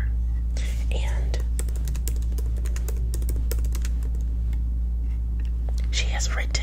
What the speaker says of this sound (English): some computer typing.